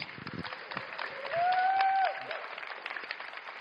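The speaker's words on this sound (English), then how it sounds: "Please give a big round of, a welcoming round of applause for Dave Burns." An audience at a professional talk event claps to welcome a presenter to the stage, a steady, fairly faint patter of many hands with a whistle or cheer rising briefly in the middle.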